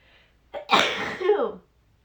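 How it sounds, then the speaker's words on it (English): A single loud sneeze close by, with a sharp intake of breath just before it and a drawn-out vocal release. "I feel like I need to sneeze."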